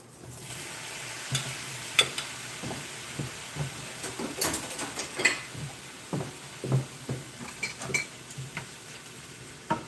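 Shrimp frying in a pan over high heat gives a steady sizzle with repeated stirring scrapes and small crackles running throughout, fairly close and moderately loud with no talking.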